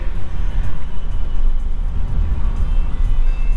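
Road traffic rumbles past on the Mumbai Goa highway NH66 near Hatkhamba Pali, a loud, close, steady roar of vehicle engines and tyres.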